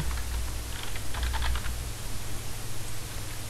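Fingers type on a computer keyboard while filling in a fuel-usage record. Quick, light keystrokes come in small clusters over a steady background hiss, close by and with no talking.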